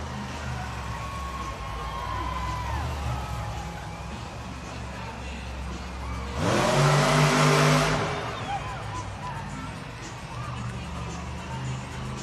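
Monster Mutt Dalmatian monster truck at a Monster Jam arena event in Wichita, two-wheel skills challenge, its engine surging loudly for a couple of seconds midway over a steady crowd and arena din, then settling back.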